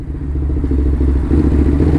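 Ducati Hypermotard SP motorcycle fitted with an SC Project exhaust, riding on a New York street, gives a loud, steady low engine rumble with a throbbing, pulsing texture that holds without pause.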